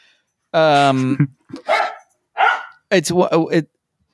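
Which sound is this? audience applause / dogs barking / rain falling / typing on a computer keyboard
dogs barking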